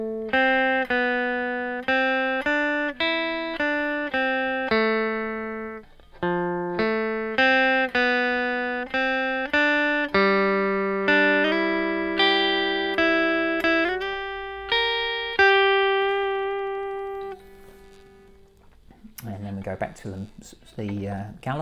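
An electric guitar plays a melody, with clean, echo-laden single notes in a steady rhythm that ring and decay. A voice starts speaking near the end.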